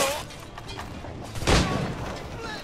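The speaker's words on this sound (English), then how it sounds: "I'm just gonna shoot some guys" Gunfire in the pirate action game Assassin's Creed 4 Black Flag, one loud shot bursting out around the middle of a steady background of game ambience.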